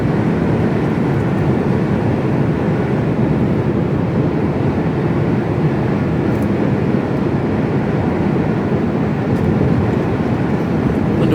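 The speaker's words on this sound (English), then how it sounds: "There's a long container train." A long container freight train passing steadily nearby, a continuous loud low rumble and rolling roar that does not let up, heard from a truck driver's cab in the UK.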